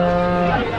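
Cattle at a livestock fair in Capoeiras, Pernambuco, one loud close moo sustained for nearly a second and bending down in pitch at the end.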